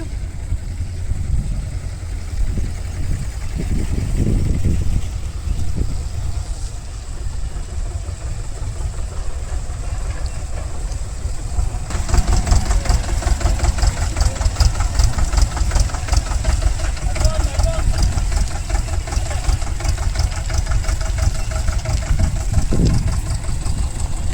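Tractor engines pumping water out of a flooded construction site run as a steady, loud, close mechanical drone that thickens partway through as another engine joins, with no talking.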